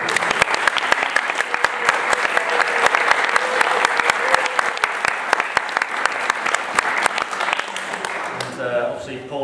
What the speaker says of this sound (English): Round of applause then, I think.